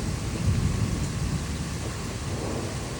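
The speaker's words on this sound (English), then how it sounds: "that storm that we're getting hit with, it knocked out our power" A loud thunderstorm over Troy, Illinois: deep rolling thunder rumbles continuously beneath steady heavy rain and a broad wash of storm noise, close and powerful throughout with no voices.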